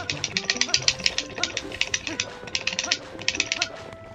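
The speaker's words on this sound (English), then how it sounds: "I know you can probably hear my controller in the background" GameCube controller buttons click in quick irregular bursts close to the microphone, layered under steady game music and sound effects from The Legend of Zelda: Twilight Princess.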